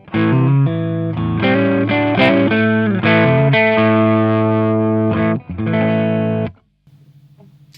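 A Les Paul electric guitar played through a modified Marshall 1959 Plexi amp with no pedals, on a clean, bright setting, rings out loud, sustained chords before cutting off to a faint amp hum.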